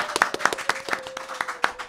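Audience applause at a Korean talk show taping, sparse individual hand claps at a steady rhythm, close and moderately loud, with a faint tone running underneath.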